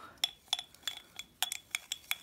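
Glue and water stirred together in a container give a quick series of light, ringing clinks and taps, roughly a dozen scrapes and knocks in an uneven rhythm, faint and close with no talking.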